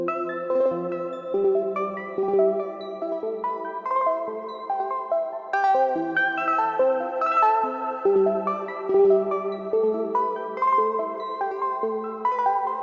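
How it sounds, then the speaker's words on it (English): Arpeggiated Omnisphere synth chords from an arp-section preset in FL Studio, for an emotional hyperpop trap beat: bright, layered notes step quickly through shifting chords in a steady, loud, continuous pattern, with no voices. "The arpeggiator instantly turns it into something virtual, something really colorful and catchy"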